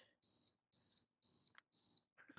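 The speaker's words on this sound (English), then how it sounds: "Sorry about that beeping sound." An electronic alarm, like a smoke alarm, sounds four evenly spaced high-pitched beeps, each about a quarter second long. They are faint and steady, with a brief bit of indistinct sound at the end.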